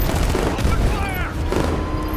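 Gunfire bursts in Batman: Arkham Knight during a road chase, loud and dense over a constant engine-like rumble, with a faint voice beneath.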